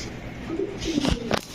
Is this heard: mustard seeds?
no